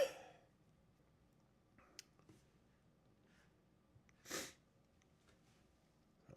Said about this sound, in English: got a little bit of a sniffle there